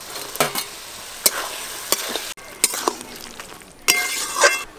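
Fried prawns tossed into a pan of pumpkin-leaf vegetable curry: sharp, close clinks and scrapes of a utensil against the pan over a light, intermittent sizzle.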